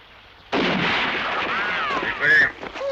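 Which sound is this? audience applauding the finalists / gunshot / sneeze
gunshot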